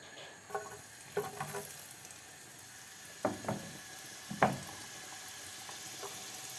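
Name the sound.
chopped onion frying in oil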